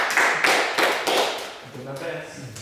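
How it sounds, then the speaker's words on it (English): A small group at a script table read claps briefly in a few bursts, close by and mixed with voices talking. "Everybody, a round of applause to Troy for writing an amazing script."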